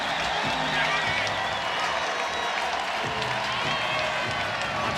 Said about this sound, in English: Much deserved ovation.